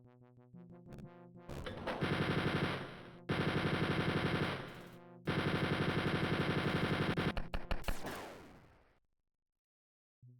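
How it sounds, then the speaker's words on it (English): An enemy soldier fires on the player in Wolfenstein 3D: Spear of Destiny. Loud, rapid machine-gun bursts come in three long sustained stretches separated by brief gaps, then sputter out into silence. "He was shooting me immediately when I popped out."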